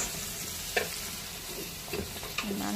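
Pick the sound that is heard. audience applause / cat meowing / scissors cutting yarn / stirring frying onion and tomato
stirring frying onion and tomato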